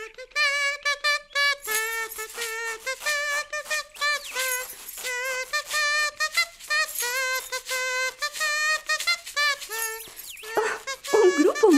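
Homemade instrument made from a piece of plastic and a comb, played as a run of many short, squeaky buzzing tones in a quick uneven rhythm, loud and close throughout.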